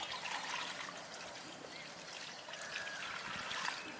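Water is poured out while anchovies are being cleaned, a soft, continuous trickling splash that runs throughout at low level, with no voices.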